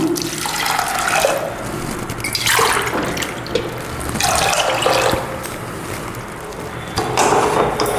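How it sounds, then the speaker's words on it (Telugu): Water pours and splashes into a pressure cooker over lentils in steady bursts, pausing briefly between pours, close and fairly loud with no talking. "రెండు గ్లాసులు నీళ్ళు పోస్తున్నాను"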